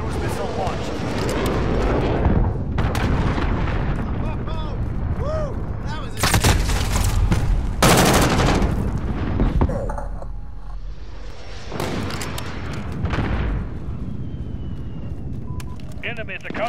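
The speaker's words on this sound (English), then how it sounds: "Allied cruise missile launched." Cruise missile strike explosions in Call of Duty: Modern Warfare, a series of loud booming blasts with rumbling decay and gunfire scattered between, while voices talk over the action.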